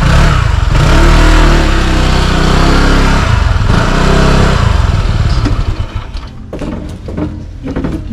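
A motorcycle rides through wild traffic on the way down to Dumaguete in the Philippines, its engine loud and close with steady revving and droning for most of the stretch, easing toward the end amid passing road noise.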